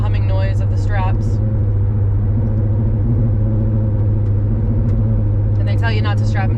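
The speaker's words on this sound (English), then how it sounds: "now I have to listen to that humming noise of the straps" Straps holding a soft surfboard on the roof of a moving car hum as the car drives along, a steady low drone under constant road rumble, with a voice speaking briefly at the start and again near the end.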